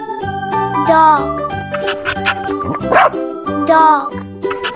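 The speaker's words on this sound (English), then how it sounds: "Dog." A dog barks a few times over a bouncy, tuneful music backing, the barks close and fairly loud.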